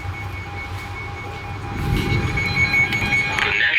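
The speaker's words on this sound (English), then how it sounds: "now I've got an alarm going off on my weather radio" A weather radio alarm tone hums continuously in the background during a thunderstorm, with rumbling low noise rising partway through and a brighter warbling beep near the end.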